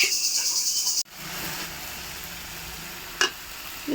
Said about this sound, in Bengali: এদিকে কই মাছের ঝোল হচ্ছে